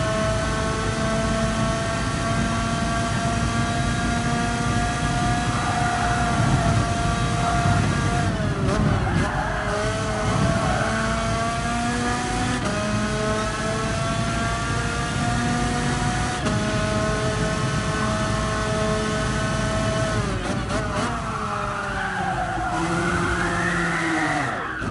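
Racing car engine in Gran Turismo Sport, a GR1T Tomahawk, droning steadily at high revs with harmonic pitch shifts as the throttle changes, with tyre squeal and scrubbing bursts as the car slides and spins.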